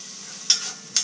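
Bacon lardons browning in leftover fat in a pan for rabbit chasseur, a soft hiss with two brief scraping stirs.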